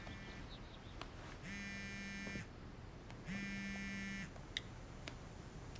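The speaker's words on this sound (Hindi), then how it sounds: "उप्स, मेरा फोन बजा।" Two long electronic buzzing rings, each about a second, separated by a short pause, with faint clicks and background noise around them.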